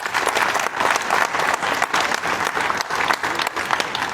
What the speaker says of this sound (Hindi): बच्चों के लिए जोरदार ताली।